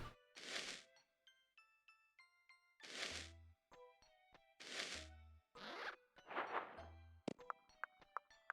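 Zipper effect from Paper Mario: The Thousand-Year Door, heard as several quick bright zip bursts interleaved with plinking chime tones and soft thunks, crisp and close with no talk.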